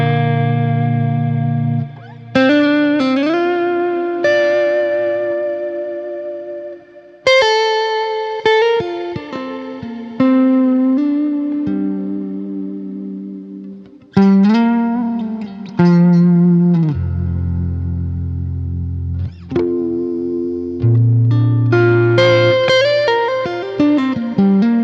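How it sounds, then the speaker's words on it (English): A directly recorded guitar plays distorted chords and single notes through a wide, piano-like reverb, each attack ringing out in a long sustained wash before the next phrase, loud and alone. "a very lovely wide sort of almost like a piano reverb, like if you hold down the sustain pedal on a piano."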